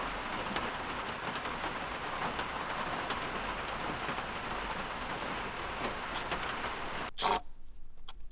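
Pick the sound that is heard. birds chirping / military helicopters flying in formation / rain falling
rain falling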